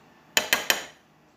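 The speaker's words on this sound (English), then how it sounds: "So I'm going to scrape it away from the spatula and cling it into the bowl" Three quick metallic clinks of a spoon against a spatula and bowl while scraping off chocolate truffle mixture, evenly spaced and close, each fading briefly in a quiet room.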